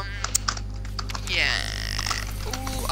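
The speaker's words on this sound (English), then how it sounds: "I hear typing" Light keyboard clicks patter irregularly in the background of the video game Layers of Fear while a swooshing game sound rises in the middle, over a steady low hum.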